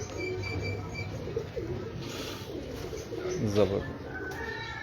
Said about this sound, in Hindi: खालिद भाई देखें जी 94 नंबर कबूतर आपकी भी फरमाइश पे आ गया जी कबूतर।